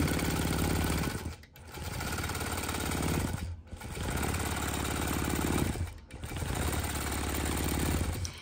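A Gammill Statler Stitcher Optimum computerized longarm quilting machine runs a fast, loud, continuous mechanical whir, stopping briefly three times before resuming its stitching.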